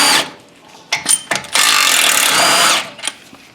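Power tool spinning off the 17mm slide pins on a Ford Thunderbird front brake caliper, close and loud: short ratcheting bursts, then one sustained whirring run of about a second, ending with a brief final burst.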